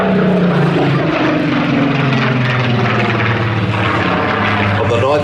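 A Rolls-Royce-engined Supermarine Spitfire PR.XIX flying at an air festival, its engine a loud, steady droning roar that holds without a break throughout.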